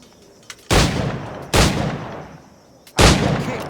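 Three loud firearm shots in Assassin's Creed IV Black Flag, each a sudden heavy blast with a long fading tail, fired at uneven intervals with quiet gaps between them.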